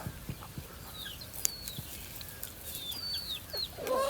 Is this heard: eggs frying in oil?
no